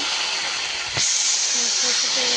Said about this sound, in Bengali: দেখতে পাচ্ছেন রসুনটা এভাবে ভেজে নেবেন